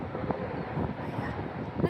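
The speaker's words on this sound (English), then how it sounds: "Sorry if it's windy." Wind buffets the microphone with a low, continuous rumble, with a voice faintly audible underneath.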